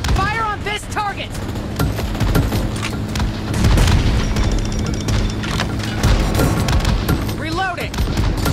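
Gunfire in PUBG Mobile, dense and continuous rapid shots with booming impacts, loud throughout, mixed with game voice callouts.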